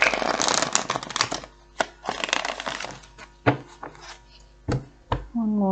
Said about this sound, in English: let's give it another shuffle